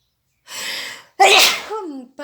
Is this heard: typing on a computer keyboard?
no